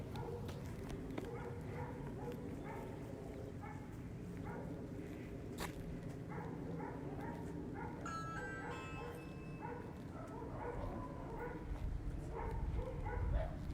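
A dog barks in a residential neighbourhood during door-to-door block walking in Katy, Texas, a few barks heard at a distance amid footsteps and outdoor background noise.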